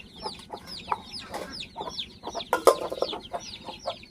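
Chickens and chicks cluck steadily, with repeated high chick peeps over lower hen clucks and a louder burst near the middle, close by with no talk.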